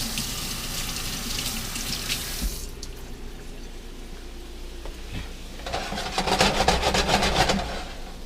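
A kitchen tap runs water over raw pork chops being rinsed in a sink, a steady splashing stream that cuts off briefly, then returns louder and more broken as the meat is handled under it.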